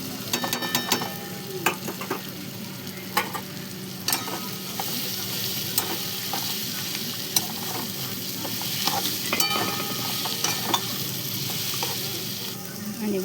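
Cluster beans (gawar) for thecha sizzle and fry in a pan, with a steady hiss broken by sharp scraping clicks of a spatula stirring against the metal.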